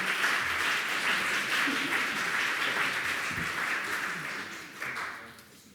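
An audience at a European science-advice panel event gives sustained applause, a dense wash of clapping that holds steady and then fades toward the end.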